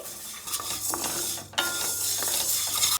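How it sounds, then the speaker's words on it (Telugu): Black gram lentils roasting in a pan over a medium flame for sweet laddus: close, busy scraping and rattling as they are stirred, with a soft sizzle underneath and a brief pause in the middle. "మీడియం ఫ్లేమ్లోనే బాగా వేయించుకుందామని"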